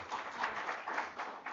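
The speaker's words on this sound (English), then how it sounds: "Another round of applause to Ms. Zwane." Scattered round of applause at an African thought workshop, quiet hand clapping from a small audience in pulsing waves, somewhat distant and thin.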